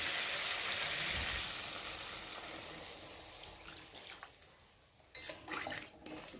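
Water is poured into a pan of rohu fish curry with aubergine and potato, a rushing splash and sizzle that gradually fades, followed by sharper clatters and bubbling near the end.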